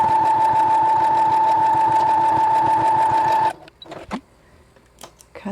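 A sewing machine running top stitching on a doll backpack, a loud, fast, steady mechanical whir that stops abruptly, followed by a few soft handling clicks and rustles.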